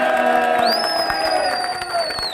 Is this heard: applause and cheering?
yes